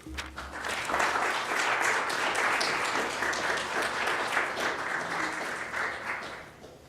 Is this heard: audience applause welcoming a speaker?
yes